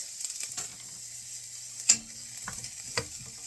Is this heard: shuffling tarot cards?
no